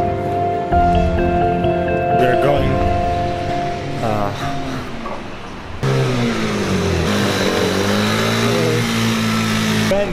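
Ferrari engine revving on a street in Monaco, rising and falling in pitch as it climbs through revs, loud and close, with people talking over parts of it.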